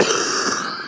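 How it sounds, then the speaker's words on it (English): A man coughs and clears his throat in a short, harsh burst close to the microphone, with no talk over it. "I started coughing too soon"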